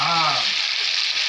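Pabda fish frying in hot oil, a steady dense sizzle that fills the whole clip, with a brief low tonal hum at the very start.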